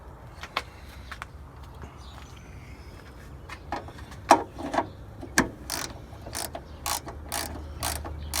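A hand ratchet tightens a part next to plastic, clicking in scattered short bursts, first sparse and faint, then louder, quicker clicks against a low background hum.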